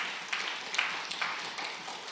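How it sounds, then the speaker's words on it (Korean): A church congregation applauds, a soft, fairly distant wash of clapping with a few sharper claps standing out, continuous and fairly quiet. "박수 한번 쳐줍시다."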